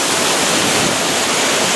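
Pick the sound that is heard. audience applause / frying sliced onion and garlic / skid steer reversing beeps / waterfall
waterfall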